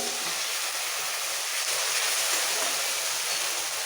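A little water poured into a hot pan of browned onion paste gives a loud, continuous hiss and bubbling steam that holds steady throughout, close and alone.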